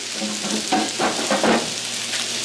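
Food stir-frying and sizzling on the flat top of a Blackstone griddle, with a steady close hiss broken by several louder bursts of scraping and tossing as the ingredients are stirred.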